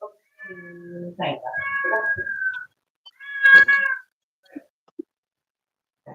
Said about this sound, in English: Is the cat really yelling?